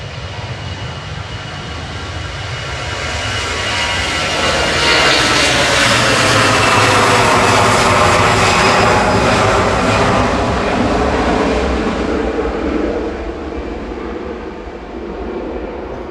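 A Jet2 Airbus A321 jet departs Manchester Airport, its engines building to a loud, steady roar that swells and holds, then slowly fades, with no one speaking.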